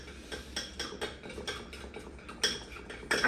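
A utensil scrapes and clinks rhythmically against a pan while salt-and-pepper-seasoned food is stirred, a steady series of light metallic taps and scrapes with a couple of sharper clanks near the end.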